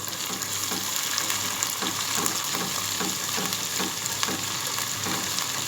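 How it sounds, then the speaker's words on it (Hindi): Ginger-garlic paste sautéing with cumin seeds and onion in a hot pan for aloo katli, giving a steady close sizzle and fry crackle with occasional soft scrapes of a stirring spoon, no voices. "इसको भी सोटे करेंगे"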